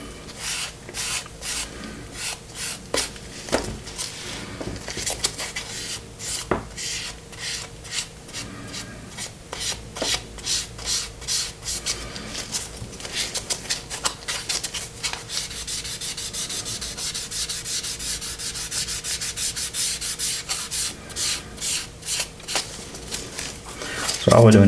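Close-up sanding of a 1:72 Airfix BAE Hawk plastic model kit, a run of quick rasping rubs repeated back and forth, steady and fairly loud throughout.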